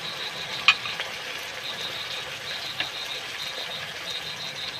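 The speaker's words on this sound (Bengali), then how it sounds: "একটু নাড়াচাড়া করে ভেজে নেব" Vegetables stir-fried in a pan with soy sauce give a steady, soft sizzle with a couple of brief scraping knocks from stirring, no voices.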